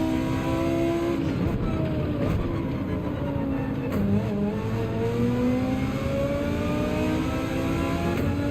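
Audi race car in Gran Turismo 7 at Deep Forest, engine droning steadily near and loud with harmonics rising and falling through gear changes and throttle, alongside other racing cars, no talk.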